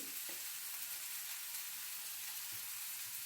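Ginger paste and other soya ball curry ingredients sauté in a pan with a steady, close hiss of frying that stays even throughout, with a few soft stirring scrapes and no voices.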